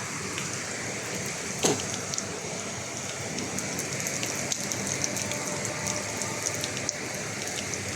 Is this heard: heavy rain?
yes